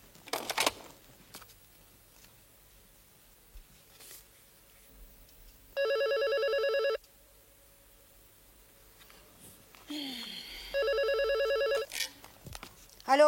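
Old-style telephone bell rings in two short bursts separated by quiet, with faint rustling and room noise in between.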